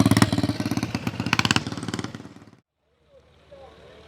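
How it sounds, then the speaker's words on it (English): Scrambler motorcycles circling slowly at a vintage vehicle show in the Teifi Valley: a close, loud, rhythmic engine putter that cuts off after about two and a half seconds, leaving a faint, quiet background. "I don't think scramblers are meant for pottering like this."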